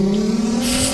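Steady engine drone of a car cruising on a highway in the Roblox-style driving game Driving Empire, a constant mid-pitched hum with a brighter hiss rising near the end, no talking.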